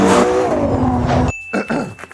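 A Ferrari Purosangue V12 engine revs loudly and steadily with a rising tone, then cuts off abruptly into near-silence broken by short mechanical clatter.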